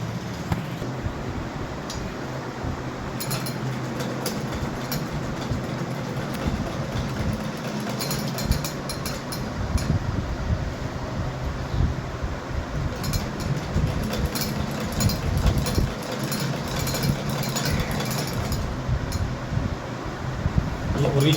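A sewing machine stitches lace onto a garment sleeve, giving a continuous close whirring and rattling hum that runs steadily for the whole stretch with slight rhythmic pulsing.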